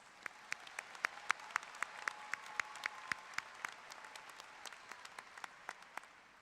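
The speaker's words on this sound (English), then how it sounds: "Let's give them all a round of applause." Faint, sparse applause at a university commencement ceremony: distinct claps in a steady rhythm, heard from a distance in a quiet room.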